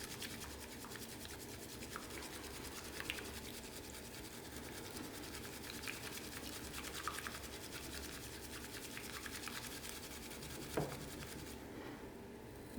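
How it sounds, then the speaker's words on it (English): Matcha latte whisked quickly until frothy, giving a steady, close, quiet scratchy swishing that continues without a break and with no talking. "And you just whisk until it's frothy."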